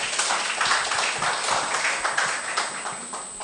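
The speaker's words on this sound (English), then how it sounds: "Clap for them." Audience at a hackathon gives a round of applause, a steady stream of fairly close hand claps that holds at an even level for the whole stretch, with no talking over it.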